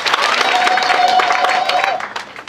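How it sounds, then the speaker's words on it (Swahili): A church congregation in Kisumu breaks into brief, lively applause that is dense and loud at first. A sustained tone runs through it before the clapping fades out. "makofi kwa wana Kisumu Dinari"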